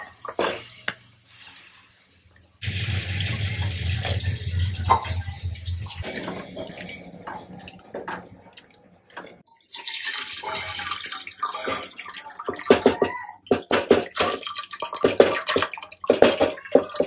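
Tap water runs into a pot or sink in a home kitchen while mutton is cooked for a pressure cooker, gushing in two long bursts with clinks of pans and short splashes between.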